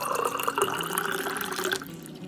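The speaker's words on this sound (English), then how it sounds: "So I'm gonna fill this up with water." Water pours steadily into a heavy-duty stainless steel coffee percolator, a close splashing, trickling fill that runs for about two seconds before tapering off abruptly, with no talking.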